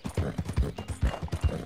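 Horse hooves galloping in Red Dead Online, a quick, close run of heavy rhythmic thuds in a steady beat.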